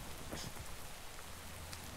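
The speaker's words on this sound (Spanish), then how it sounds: "Oye, ha estado lloviendo todo este rato," Steady rain falling in the video game Minecraft, a continuous even hiss of drops holding at a constant level for the whole stretch, with no voices over it.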